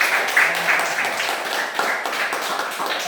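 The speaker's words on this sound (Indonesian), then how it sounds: "Tepuk tangan untuk kalian." A classroom of students claps together in a brief, uneven patter of hands, fairly close and lively, with scattered sharper claps.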